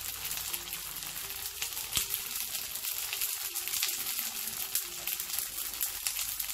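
Nems, French-style spring rolls, frying in a pan with a steady close hiss and crackle of hot oil, constant throughout, with an occasional faint pop or knock.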